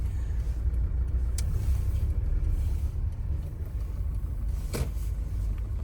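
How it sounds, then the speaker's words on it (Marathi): Steady rumble of road traffic nearby, heavy from roadworks in a UK town, cars passing continuously with engine drone and a brief sharper noise now and then. "थोड्या रस्त्याचं काम चालू आहे त्यामुळे ट्रॅफिक जास्त आहे"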